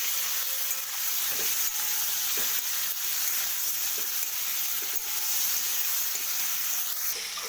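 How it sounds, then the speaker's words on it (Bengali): Ridge gourd seasoned with salt and turmeric stir-frying in a pan, giving a steady close sizzle with faint scrapes from stirring scattered through it, no voices. "এটা ভালো করে একটু নাড়িয়ে ভেজে নিতে"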